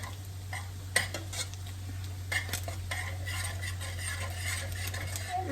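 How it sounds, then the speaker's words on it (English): Drained macaroni coated with squeezed cheese is stirred in a pot, with soft scraping and clinks of a utensil against the metal over a steady low hum. "Now I'll give it a quick stir."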